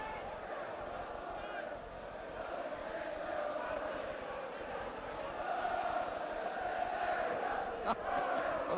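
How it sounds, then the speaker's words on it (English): A large football crowd at a 1980 match sings a chant, heard as a distant, steady massed roar of voices that swells slightly toward the end. "The crowd singing that you only sing when you're losing."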